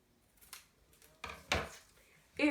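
Scissors cutting a sheet of blue paper in two for a handmade Mother's Day card, heard up close as a few quiet snips and rustles, ending in a louder crisp cut.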